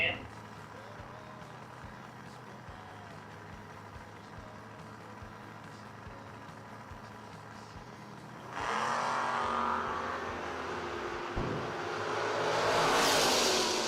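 A 1990 Camaro and a 1971 Demon drag racing at a footbrake challenge event: a commentator talks over a low idling rumble, then the cars launch with a sudden loud, rising roar that builds toward the end.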